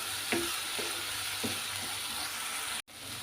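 Onions frying in a pan for a mushroom and pea curry, a steady broad sizzle with a few soft stirring scrapes, close and continuous with a brief dropout near the end.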